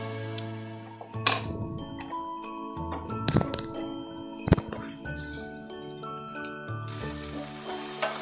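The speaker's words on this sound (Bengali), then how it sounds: "দেখুন, ঢ্যাঁড়স ভাজা আমার হয়ে গেছে।" Okra frying in a pan makes a continuous sizzle, punctuated by metallic clinks and scraping taps of a spatula against the pan.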